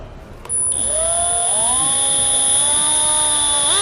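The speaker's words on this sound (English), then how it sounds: "Once you feel you're there, just begin drilling." A drill spins up after a brief click and whines steadily, pitch dipping slightly as it bores a 5/16 inch hole for a tailgate lift assist on a landscape trailer; loud and close.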